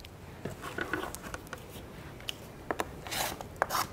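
Rotary cutter or blade trimming two sides of quilt fabric along a ruler, heard as a few faint, scattered rasping cuts and rubs close by, with no talking.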